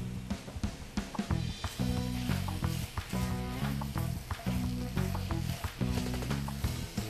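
Spinach wilting in a hot pan with almonds as salt and pepper go in, a continuous crackling sizzle broken by repeated scraping and stirring knocks, close and fairly loud with no talk.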